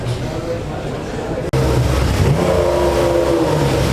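A car engine revs loudly and steadily with a slipping clutch, at a Bugatti-focused car event, briefly cutting out before rising again in a sustained strained drone; voices are faintly present.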